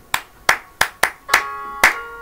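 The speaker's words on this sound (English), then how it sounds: "Give yourself a sound clap." Six separate, evenly spaced sharp claps from a group of children at a church children's programme, crisp and near with no talking.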